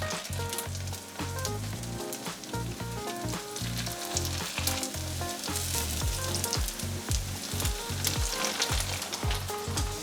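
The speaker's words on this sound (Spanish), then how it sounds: "En un sartén antiadherente agregamos un poco de aceite de oliva o vegetal de tu preferencia. Agregamos las tortitas." Quinoa, tuna and potato patties fry in olive or vegetable oil in a nonstick pan over medium heat, giving a steady, dense sizzle with crackling pops that lasts throughout.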